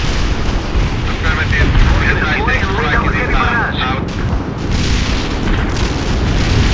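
Artillery barrage in the war strategy game World in Conflict: Soviet Assault, a dense continuous rumble of booms and blasts, loud and close, with radio-style voices talking over the bombardment.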